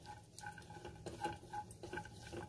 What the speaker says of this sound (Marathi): त्यातच आता मी काजू घालणार आहे आणि काजू सुद्धा परतून घ्यायचे